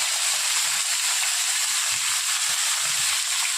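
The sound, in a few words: bottle gourd sizzling as it is added to frying onions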